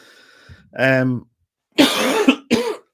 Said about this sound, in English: I seem to have a cough here